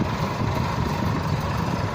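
A tractor engine idles with a steady low rumble, close and continuous, at a site where soil is being loaded with a dozer bucket attachment.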